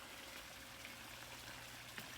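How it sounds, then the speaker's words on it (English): Water flows and trickles steadily in a pond garden, a faint continuous babbling with a few soft splashes close by and no talking. "But I bet you can hear the water."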